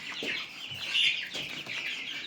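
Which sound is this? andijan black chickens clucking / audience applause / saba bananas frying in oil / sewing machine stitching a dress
andijan black chickens clucking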